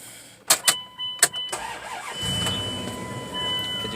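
A Chrysler Pacifica engine fires up after a few sharp clicks and then settles into a steady idle, heard up close and alone.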